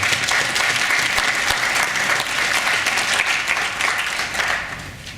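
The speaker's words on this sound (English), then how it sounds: "I think Jamaica deserves a round of applause." An audience at a conference session on Jamaican plant biodiversity applauds continuously, a dense, even clapping that fades slightly at the end.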